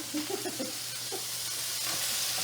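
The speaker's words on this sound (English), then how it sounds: "Try and get all your meat into the frying pan." Ground meat sizzles steadily in a hot frying pan, a constant crackling hiss with faint clinks of stirring early on.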